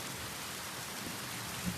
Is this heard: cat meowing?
no